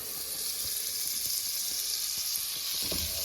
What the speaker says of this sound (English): I'm gonna let that melt down, 2 sticks of butter right there